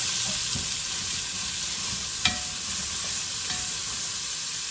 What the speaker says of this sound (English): Put those onions in. Get that butter moving around.